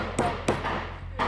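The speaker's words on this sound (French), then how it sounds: "j'ai tapé avec le marteau et ça a fait un trou." Hammer blows on a metal hole punch set on fabric in a school workshop, three sharp separate metallic strikes with short ringing tails, close and clear, faint murmur behind.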